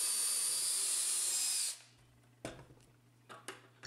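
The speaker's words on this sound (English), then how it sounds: "Then I drilled a few pocket holes on the top on the underneath of the cabinet." A power drill bores pocket holes into pine panels for a cabinet build, whining loud and steady for under two seconds before spinning down, followed by a few faint knocks and handling sounds.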